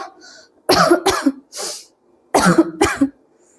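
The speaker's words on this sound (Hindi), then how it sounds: "खांसी को इग्नोर किया जाए।" Several sharp, harsh coughs in two close bursts, loud and nearby, separated by a short pause.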